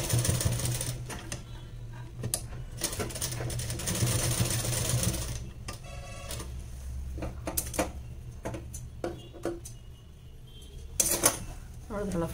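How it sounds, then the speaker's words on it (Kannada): A sewing machine stitches a blouse in repeated bursts of rapid mechanical whirring, broken by pauses and handling clicks, with someone talking between runs. "ಮತ್ತೆ ಎರಡು ತಕ್ಕೆ ಸ್ಟಿಚ್ಚನ್ನು ಮಾಡಿ."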